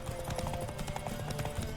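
A horse gallops in The Witcher 3 during a horse race, hooves clip-clopping in a quick, steady rhythm close up, with a faint whistle of rushing air beneath.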